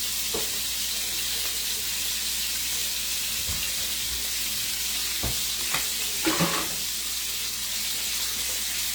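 Ham is stirred in a hot frying pan while making tomato gravy: a constant hiss of frying with a few scraping stir clicks and knocks toward the end, close by with no talking.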